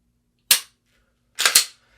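Handgun shots fired during point shooting practice: one sharp isolated report, then a quick pair of shots about a second later, loud and crisp with brief decay and no talking.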